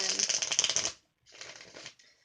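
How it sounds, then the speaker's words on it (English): A Vice Versa tarot deck is shuffled by hand in two bursts of rapid papery riffling, close and fairly quiet, with a brief pause between. "let's go ahead and get a pre-shuffle in here, bringing out my vice versa tarot deck for this one"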